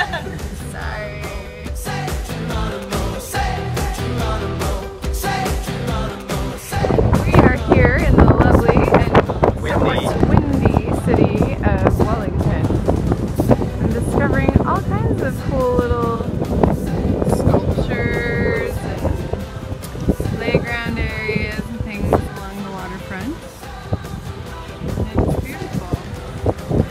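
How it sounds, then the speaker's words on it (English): Strong wind buffets the microphone outdoors in New Zealand, a loud continuous roar and rumble lasting throughout, with people talking over it intermittently. "Very windy."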